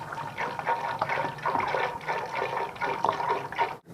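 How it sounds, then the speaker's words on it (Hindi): A glass of water is poured into a pressure cooker holding chickpeas, giving a steady splashing, gurgling stream close to the microphone for about four seconds before it stops abruptly. "अब इन चनों को इसमें शामिल कर देंगे और इसमें हम 1 गिलास पानी को शामिल और करेंगे"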